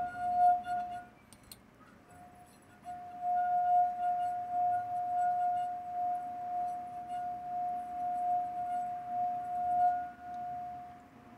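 A wet fingertip circles the rim of an empty drinking glass, drawing out a sustained, pure singing tone that starts, breaks briefly, then rings steadily and close for several seconds.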